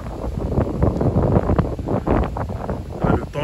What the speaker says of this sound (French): Oh, il y a du vent de fou.